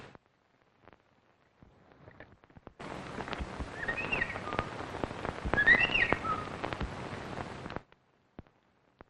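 Soft, warbling whistles rise and fall over a steady patter of rain, with occasional sharp clicks; a person whistling imitates a meadowlark.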